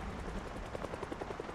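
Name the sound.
helicopter flying overhead in the video game Project Zomboid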